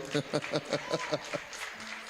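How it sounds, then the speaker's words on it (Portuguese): A church congregation claps in a quick, regular rhythm during a teaching service, about eight distinct beats close together, then the clapping fades into murmured voices and a sustained tone. "pode aplaudir o nome do Senhor"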